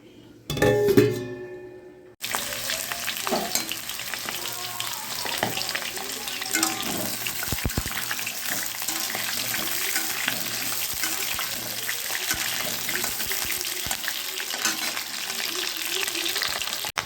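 A tempering of cumin, bay leaf, dried chilli and onion sizzles loudly in hot oil. The steady frying hiss follows a brief clatter and a faint voice, with occasional stirring scrapes.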